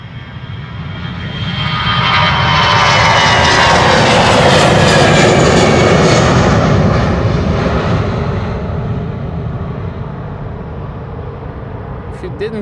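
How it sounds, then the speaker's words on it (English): Boeing 787 Dreamliner jet bound for Cape Town taking off at Schiphol Airport, a roaring engine swell that builds over a few seconds, peaks loudly and slowly fades as it climbs away. "The Dreamliner to Cape Town, now taking off from center."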